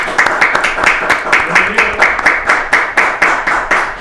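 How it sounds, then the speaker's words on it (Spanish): Warm audience applause welcoming guest Marcelo Bogado onto a book interview set: close, loud clapping with a distinct rhythmic pattern of regular, evenly spaced claps carrying through the whole stretch. "vamos a recibir con un cálido aplauso a Marcelo Bogado"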